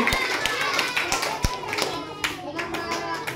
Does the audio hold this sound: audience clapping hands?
yes